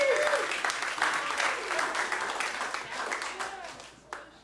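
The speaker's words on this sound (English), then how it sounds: "Give yourselves a round of applause." Comedy club audience applauding steadily and loudly for several seconds, with dense clapping, a few whoops, and some voices mixed in before it tapers.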